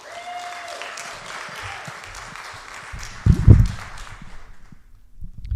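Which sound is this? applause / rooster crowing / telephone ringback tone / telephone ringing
applause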